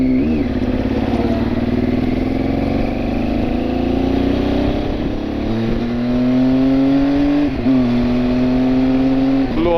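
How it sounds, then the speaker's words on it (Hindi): A car engine strains at high revs in a long, loud, sustained drone with pitch rising and dipping, the car running only at high rpm after water got into its air filter on a road trip from Bengaluru to Goa. "लोअर आरपीएम में गाड़ी नहीं चल रही है, हायर आरपीएम में ही चल रही है।"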